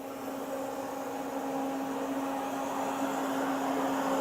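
A Citizen K16 CNC Swiss lathe with its main spindle running at 1,000, a steady mechanical whine with a constant hum and broadband noise, even and unbroken throughout.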